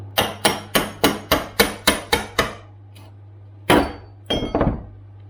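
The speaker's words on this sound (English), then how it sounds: "I'm going to try and use this chisel to raise this and pull the nail out enough" A chisel is hammered under an L bracket on a timber floor to pry up a nail: about nine rapid, sharp metallic taps in a steady rhythm, then a pause and a few heavier knocks and scrapes, up close.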